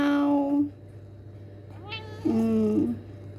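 A cat meows twice at close range: a short call, then after a pause a longer, rising and falling meow, over a faint steady hum.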